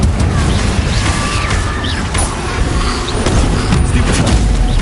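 Confringo spell blasts in the video game Hogwarts Legacy, a dense, continuous clatter of magical impacts and crackling bursts with mechanical rattles, steady and loud throughout.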